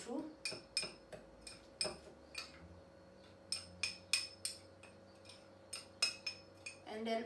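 Repeated light clinks and taps of a spoon mixing a fish marinade with black pepper in a bowl, an irregular run of close, crisp strikes over a faint steady hum.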